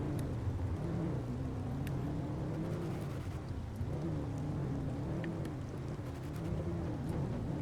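Steady rain patters while a rover rattles and rumbles over bumpy terrain in The Planet Crafter, a continuous low engine drone with scattered sharp clicks and knocks throughout.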